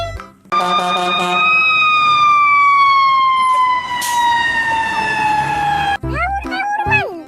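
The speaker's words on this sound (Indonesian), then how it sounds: "Lihat teman-teman, ada mobil pemadam kebakaran bawah tangga." A toy fire truck siren wails loud and close, a long sweeping electronic tone that slowly glides downward before cutting off, with a voice chattering briefly at the end.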